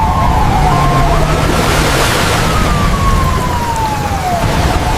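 A video game police car siren rises and falls over a loud, steady rumble of rushing noise from a downpour on a mountain road, continuing throughout without any voices.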